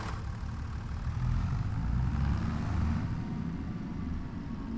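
A tractor, model 1455, idles in the Farming Simulator 25 video game, giving a steady low engine rumble that holds at an even level throughout, with no talking.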